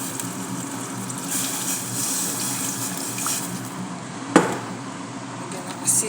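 Water runs steadily into a cooking pot of shurba tom yum, a continuous gushing pour with a sharp clink midway and a small knock at the end, with no talking.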